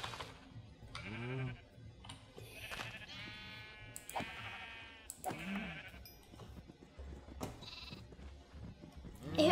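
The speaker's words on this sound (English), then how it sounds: "I heard a baby sheep, baby cow." Baby sheep bleat repeatedly in a Minecraft animal farm, several short wavering bleats close by and fairly quiet, spaced across the span with faint clicks between them.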